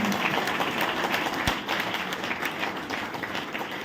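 An audience at a birthday celebration event applauds, a broad wash of clapping at moderate level that carries on steadily and eases slightly toward the end.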